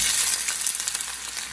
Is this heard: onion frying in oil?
yes